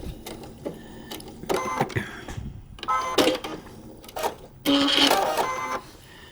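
A sewing machine stitches lace onto a vintage quilt in short separate bursts, lock stitches between runs, close by with pauses and small clicks in between.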